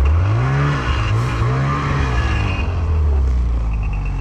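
A snowmobile engine revs loud and close on snowy slopes near West Yellowstone, its pitch rising and falling steadily throughout with no one speaking over it.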